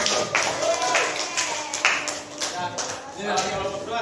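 A small group in an academic coaching session claps for group 2, the nearby claps landing as a rhythmic series of sharp bursts roughly twice a second.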